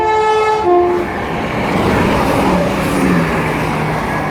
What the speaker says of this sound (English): And now ready to pass through is going to be a 170